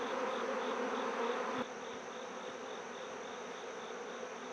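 Honey bees buzzing around an open hive in an apiary, a dense, steady close-up drone of many wings with a slight drop in loudness partway through and no talking.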